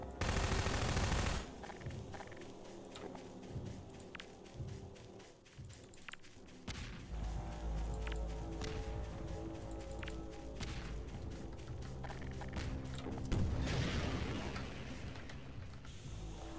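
Garry's Mod battle against a Martian tripod, with rockets fired at it: dense, loud, continuous gunfire and explosive bursts, mechanical clatter and heavy thuds, building to a stronger blast near the end.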